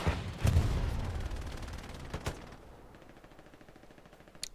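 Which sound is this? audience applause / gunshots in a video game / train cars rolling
gunshots in a video game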